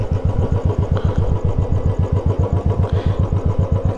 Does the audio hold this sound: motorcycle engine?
yes